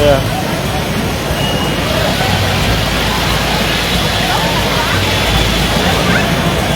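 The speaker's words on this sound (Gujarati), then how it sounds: "મોટી નદી ક્યાં હાલી જતી હોય એમ પાણી હાલ્યું જાય છે" Floodwater runs through a street in Surat during heavy monsoon rain like a river, a loud, steady rushing wash filling the whole clip with constant broadband roar.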